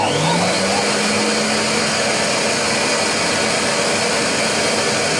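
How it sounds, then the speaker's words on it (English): A blower runs near three-week-old puppies with a loud, constant airy roar that winds up in pitch at the start and then holds steady throughout, close by and alone. "Here we go with the blower here, this is what we heard before."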